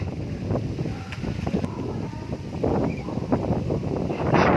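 Steady wind gusting through mango trees in a village orchard, a continuous breezy rush with microphone buffeting that swells louder toward the end, no voices.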